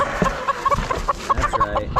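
Chickens clucking in short, repeated bursts, several birds close by with a busy, uneven rhythm and a low rumble of background noise.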